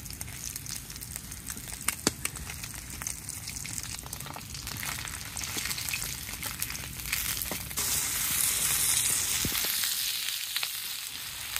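Fish frying in a pan of hot oil for a home-cooked curry, a steady close sizzle and crackle with occasional sharp pops, growing denser and louder toward the end.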